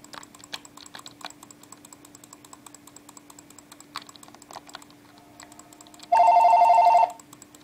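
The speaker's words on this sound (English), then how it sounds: "Someone's calling me." A telephone bell rings in one loud, continuous electronic trill lasting about a second, cutting in after a stretch of rapid computer keyboard typing during a Minecraft session.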